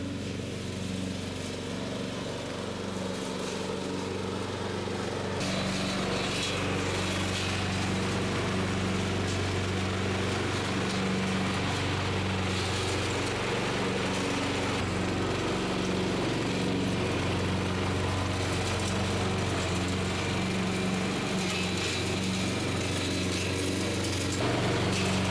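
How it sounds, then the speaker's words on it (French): A lawn tractor engine runs steadily throughout with a low rumbling hum, close and continuous, idling and working in a garden. "vraiment le tracteur était nécessaire pour pouvoir venir tout ramasser correctement"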